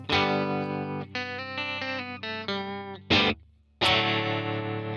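Sustained electric guitar chords through a UA Dream '65 amp with a rapid pulsing tremolo, the volume wavering quickly; a short break, then another chord rings out.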